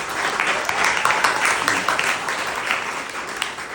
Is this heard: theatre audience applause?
yes